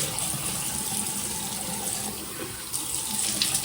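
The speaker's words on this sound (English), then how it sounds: "Let me rinse this off." Tap water runs steadily into a bathroom sink while a face is rinsed, a close continuous splashing stream with small shifts in the flow and no talking.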